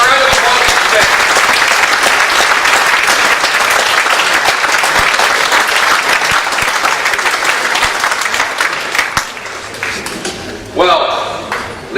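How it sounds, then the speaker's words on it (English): Sustained applause from a political meeting audience in London, dense and loud throughout, thinning near the end into scattered claps before a brief final swell. "Give a round of applause"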